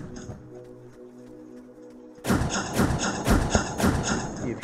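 An enemy in an Unreal Engine platformer game fires rockets at the player; after a quiet stretch with a low tone, a string of sharp thumping impacts and bursts repeats at a fast rhythm.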